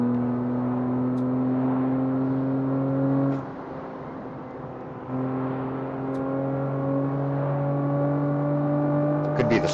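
A car's engine in the CarX Street racing video game drones at about 100 mph, loud and steady with a sustained tonal whine that dips briefly as it shifts, then climbs again.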